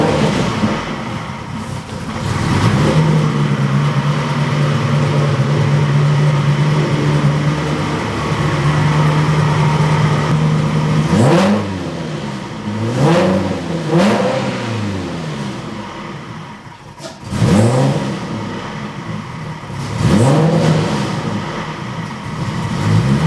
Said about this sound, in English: let's crank her up and try her again and see if we've stopped our leak